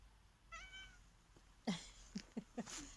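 A cat meows close by, starting with a drawn-out call and followed by several short, sharp meows in a quiet outdoor yard setting.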